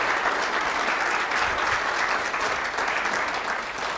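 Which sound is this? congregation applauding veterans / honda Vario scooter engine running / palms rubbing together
congregation applauding veterans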